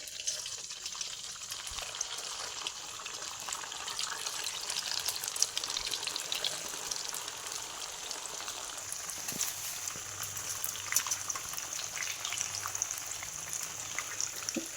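Dal batti pieces fry in hot oil with a soft, continuous bubbling sizzle, a faint crackle rising and falling over a quiet background with no talk.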